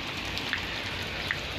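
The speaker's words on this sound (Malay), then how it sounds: "So korang boleh tengok ni kita buat review kena air hujan betul ni." Steady rain patters onto a Nikon D3100 camera outdoors, a dense continuous close-up drumming of drops with a couple of slightly sharper hits standing out, and no voices.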